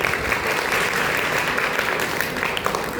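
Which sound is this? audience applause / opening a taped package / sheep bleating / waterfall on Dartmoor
audience applause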